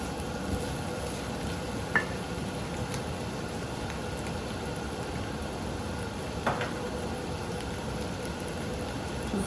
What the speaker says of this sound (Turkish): Şimdi bunu da biraz böyle karıştıralım